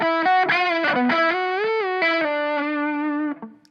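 An electric guitar, treated with distortion and effects, plays a quick flurry of notes before settling into a sustained, bending tone that fades out at the end, loud and close with no voices.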